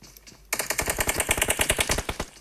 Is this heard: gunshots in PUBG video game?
yes